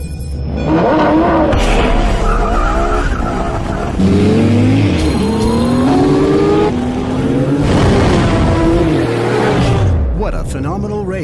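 Porsche Carrera GT and Panamera sports cars race hard, engines roaring loudly and climbing through the revs with shifts and tire squeal throughout.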